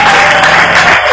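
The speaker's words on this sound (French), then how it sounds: "Est-ce que quelqu'un peut acclamer très fort?" A church congregation gathered for prayer breaks into loud, dense applause, with many hands clapping at once in a continuous close roar for the whole brief moment.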